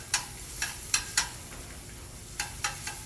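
Chopped ginger and minced garlic in a hot pan give a faint, low sizzle, with a few sharp, close taps and scrapes of stirring spaced irregularly.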